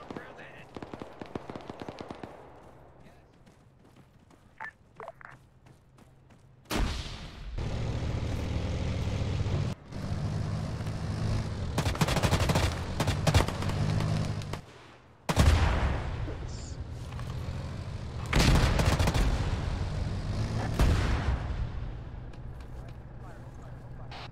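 Mortar and gunfire explosions in the video game Arma, arriving as loud bursts and rattling volleys with aircraft-like rumble between them, while players talk over the radio.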